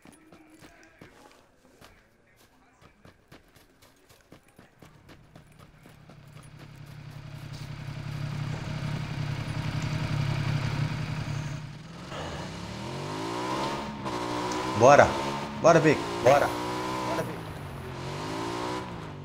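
Small buggy engine in PUBG on Xbox, a low droning hum that rises in the second half with revving and pitch sweeps, mixed with footsteps and players talking over it.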